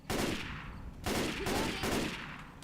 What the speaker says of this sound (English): Sometimes you can hear gunshots as well that aren't from us.